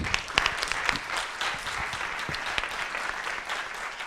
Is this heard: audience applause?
yes